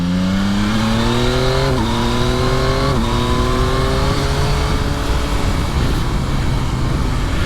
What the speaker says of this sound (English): you get a lovely note out of that exhaust